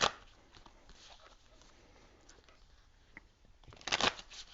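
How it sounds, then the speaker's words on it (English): Tarot cards are shuffled by hand, apparently a Rider-Waite mini deck, in quiet riffling bursts at the start and again louder near the end, with soft handling rustles between them in a calm room. "I'm just going to shuffle a little bit more"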